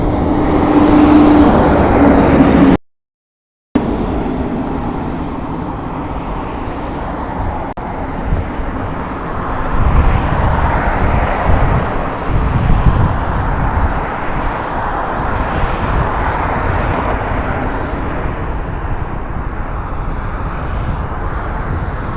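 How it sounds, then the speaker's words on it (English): A loud helicopter coming in to land at Las Vegas Harry Reid International Airport drones steadily nearby, a rumbling roar that swells and rolls on for many seconds, with a brief dropout early on. "let's capture this helicopter. He may be coming in for a landing."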